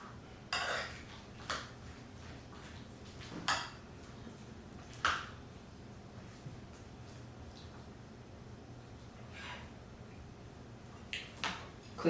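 Potato salad being mixed in a bowl with a utensil, giving scattered clinks and scrapes against the bowl that come as a few separate knocks over a steady, quiet kitchen background.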